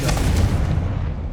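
Fire-spell blast from Confringo in Hogwarts Legacy, a loud deep booming burst that rumbles continuously through the whole moment with no talk.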